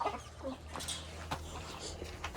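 Chickens cluck inside a backyard coop, a steady stream of soft overlapping clucks and short calls close by, with a low hum underneath.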